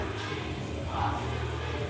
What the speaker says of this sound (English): The crowd does not warm up to Zeke Mercer at all